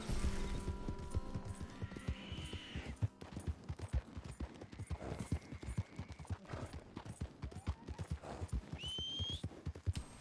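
Rapid clip-clopping hooves pound steadily while a horse whinnies a few times in Red Dead Redemption 2, set against game sound effects and occasional tonal chimes.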